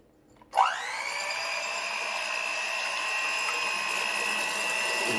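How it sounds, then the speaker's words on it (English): Electric beater fitted with a whisk whirring steadily through an apple pie mixture, starting abruptly after a brief quiet moment and then holding an even, continuous motor hum close by with no talking. "an electric beater with a whisk on it works best for me"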